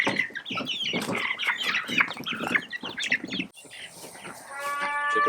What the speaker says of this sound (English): Chicken's on the grass now.